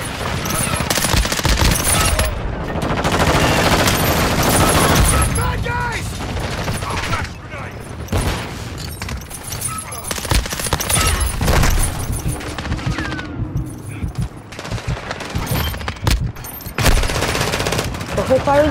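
Call of Duty: Modern Warfare II gunfire: loud, dense bursts of automatic weapon fire and booming shots, nearly continuous with brief lulls, mixed with in-game voices.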